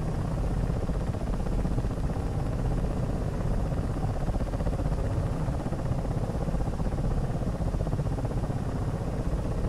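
A helicopter on a training mission over Tbilisi flies in formation, its engine and rotors giving a dense, steady roar that fills the whole stretch without pause.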